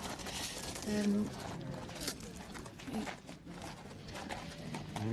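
Horse hooves trot on firm ground at a horse trials inspection, a steady clip-clop beneath continuous commentary from people talking nearby.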